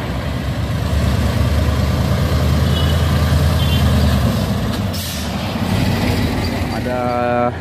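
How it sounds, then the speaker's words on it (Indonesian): A large Hino container trailer truck's engine rumbles steadily nearby, with traffic noise around it and a short series of beeps near the end. "truk trailer Hino kontainer."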